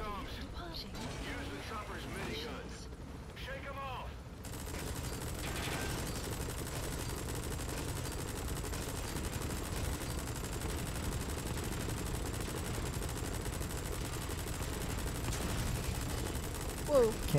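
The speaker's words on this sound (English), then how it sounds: "The minigun was just going that slow." Minigun fire in Metal Gear Solid V: a dense, sustained mechanical rattle of rapid shots that runs almost without a break, with players talking excitedly over it.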